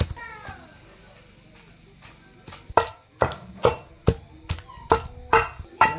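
Tamarind chutney with green chillies and tomatoes is pounded in a stone mortar, first softly, then a series of sharp, regular thuds about every half second, close and loud, with children's voices faintly in the background.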